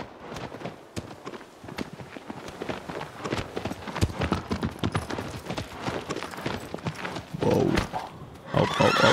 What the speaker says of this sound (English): The horse does not like it.